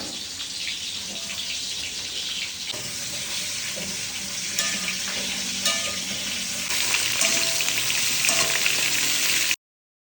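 Radish for sambar, with mustard seeds, fries in hot oil in a home kitchen, a steady close sizzle that grows louder toward the end, with a brief splash of running water.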